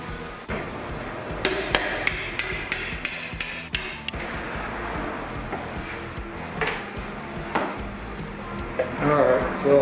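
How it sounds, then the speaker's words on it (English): Sharp metallic hammer strikes ring out in a quick regular series while fitting a tire on a Super73 RX electric bike wheel, then thin out among scraping and shop clatter, close by. "I was trying to hammer that through"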